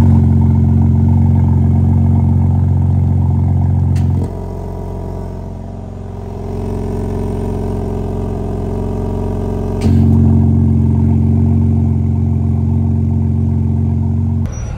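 BMW with a dAHLer exhaust valve controller driving, its deep, steady exhaust drone loud throughout, easing briefly in the middle before returning at full volume, with no talking.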